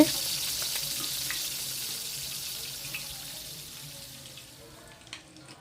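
Prawns frying in oil over low heat for a crispy snack, a steady soft sizzle with faint crackles that slowly thins out toward the end.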